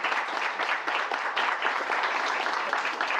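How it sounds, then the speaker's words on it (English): An audience at a Southern Jewish Voices talk session applauds a guest speaker with steady, dense clapping that holds evenly from start to finish, without talk. "we can give her a round of applause"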